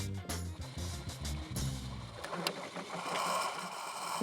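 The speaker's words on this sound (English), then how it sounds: "These lifters are making funny noises." A freshly built small-block Chevy 305 V8 with Comp Cams Endurex solid roller lifters runs with a rapid, steady mechanical ticking and clatter over a busy engine drone, moderately loud and close, with no talking.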